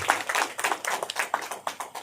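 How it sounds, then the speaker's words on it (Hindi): A crowd at an event gives welcoming applause, with dense, close, lively clapping that has quick overlapping hand claps and small rhythmic swells throughout two seconds and no speech over it. "आप सभी की ओर से जो है जोरदार तालियों के साथ स्वागत करता हूँ।"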